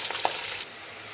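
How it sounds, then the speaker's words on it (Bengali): Fish sizzles and spits in mustard oil in a wok, a steady close crackle that thins out toward the end, with no voices. "কড়াইয়ে সর্ষের তেল দিয়ে নিয়েছি দিয়ে এবার মাছগুলোকে ভালো করে ভেজে নেব"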